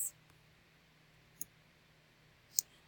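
Two quiet, crisp computer mouse clicks, spaced about a second apart, over faint room hiss with no talking.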